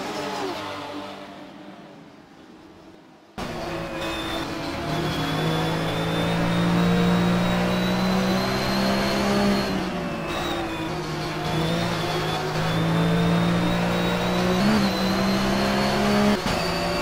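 Race cars at Brands Hatch circuit in a close fight for position, starting with a faint passing car before a loud engine cuts in abruptly and drones steadily with shifting pitch, tires and revs audible close by.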